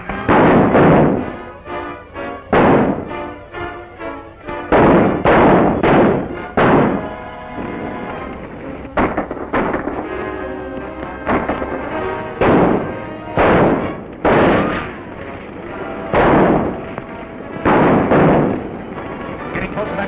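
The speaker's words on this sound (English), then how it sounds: "Shoot out that light." Gunshots ring out in an old film serial as men shoot out a light, a string of loud, sharp bangs spread across the scene and mixed with talking and a music score.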